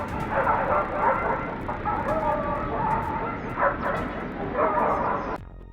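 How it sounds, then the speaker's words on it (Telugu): Several dogs barking and yipping together at a mountain lion, a steady, excited chorus of overlapping barks and whimpers that carries on for the whole span and then cuts off abruptly near the end. "ఈ కుక్కలన్నీ కలిసి ఒక మౌంటైన్ లైన్ ని భయపెట్టే ప్రయత్నం చేశాయి."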